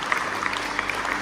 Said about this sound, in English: Come on, let's give him a big hand clap